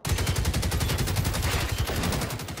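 Rapid automatic gunfire in the Generation Zero video game, a loud, continuous burst of evenly spaced shots lasting nearly three seconds with no talking.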